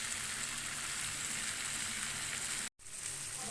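Pieces of kaleji (liver) tikka fry over high heat, giving a steady, close hiss of sizzling that cuts out for a moment near the end before resuming.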